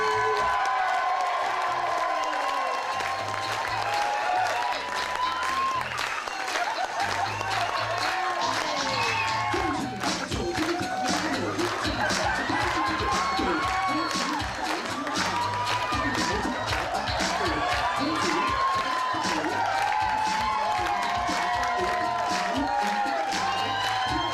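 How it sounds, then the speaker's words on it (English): An audience at a hypnosis show breaks into sustained applause and cheering, with whoops and scattered shouts over continuous clapping, and a host's voice heard through the crowd noise. "let's give the true stars of our show a fantastic round of applause"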